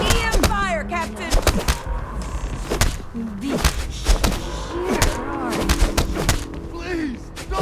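Sci-fi EM weapon fire in the Starfield video game: rapid bursts of sharp zapping shots and thuds, some with sweeping electronic whines, going off repeatedly and loudly over a busy combat soundscape.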